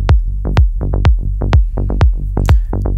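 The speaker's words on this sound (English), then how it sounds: "if we play everything in the low end, it will sound something like this" Low end of a melodic techno track, mid bass and sub together: a steady rhythmic pattern of punchy, deep plucked bass notes with a thumping kick underneath, loud and alone with no talking.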